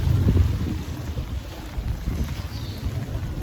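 Strong wind buffets the microphone in low, rumbling gusts, loud and close, with a faint watery wash underneath.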